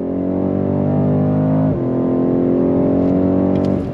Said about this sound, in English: Powering out of the turn.